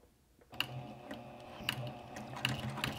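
A Juki TL2010Q sewing machine starts up after a quiet moment and stitches at a steady mechanical pace, with rhythmic clicking and whirring and sharp periodic ticks, close and alone.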